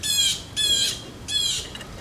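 Three harsh, loud bird squawks in a rough rhythm, each about a quarter-second long with short gaps between them, heard near and clear with no talking, outdoors by a workshop during brake work on a 1967 VW Bus.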